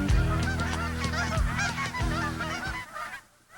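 Canada geese honk loudly and repeatedly at close range, a dense overlapping chorus of calls that fades toward the end.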